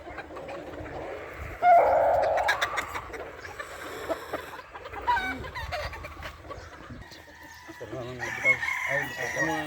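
Sweater-line gamefowl roosters crow on a game farm, one loud nearby crow rising early and others answering at varied distances amid clucking, while people talk throughout.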